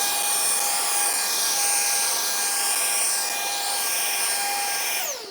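A Ryobi cordless handheld leaf blower runs with its alternate nozzle fitted. A steady, high-pitched whooshing whine holds close and loud for about five seconds, then begins to cut off at the end.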